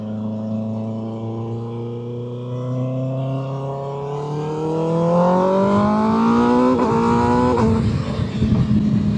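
Vehicle engine accelerating hard on an early morning ride, its rising tone climbing steadily over about eight seconds, growing louder midway, then a brief shift and continued strong roar close by with no talking.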